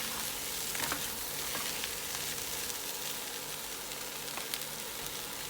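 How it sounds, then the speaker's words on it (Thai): Boiled peanuts and dried shrimp stir-fried together in a pan produce a continuous, fairly soft hissing sizzle with occasional light scrapes and ticks from stirring. "ใส่ลงไปผัดด้วยค่ะ ตามด้วยกุ้งแห้งค่ะ ผัดให้เข้ากันดีเลยนะคะ"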